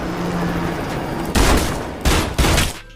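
Film gunfire as a woman shoots her husband's killer: a steady rumbling backdrop, then three sharp, loud blasts, one at about 1.4 seconds and two more in quick succession near 2.1 and 2.4 seconds.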